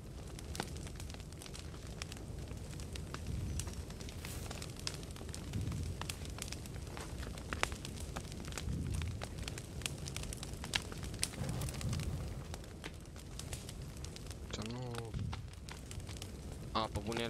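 A campfire burns in the survival game The Forest, crackling and popping steadily with low roaring swells, while players talk over it.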